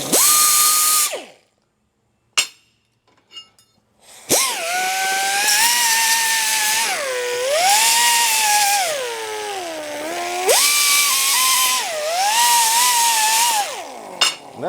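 A power grinder works sawmill parts in a shop, starting with a short burst, pausing, then running loud and continuous with its pitch sagging and rising as the load changes under the workpiece.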